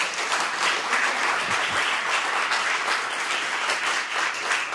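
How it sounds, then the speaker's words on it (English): An audience at a city council candidate forum in a high school gives sustained applause, a dense wash of many hands clapping at even loudness for several seconds with no talk over it. "So we can applaud them now."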